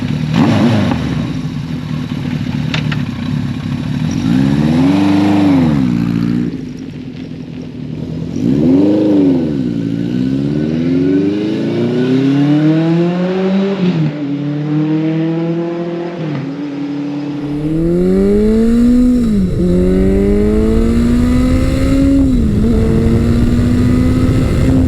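A 1982 Suzuki GS1100G motorcycle ridden on open road, its engine rising and falling through repeated gear changes, with loud revving climbs, brief drops and steady wind rush.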